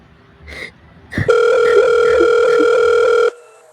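A loud, steady telephone signal tone sounds for about two seconds after a short click and ring-like pulses, the line tone heard alone and close on an old telephone handset.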